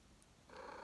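A cat purrs softly and close by, a faint low rumble that swells slightly in the second half, with no voices.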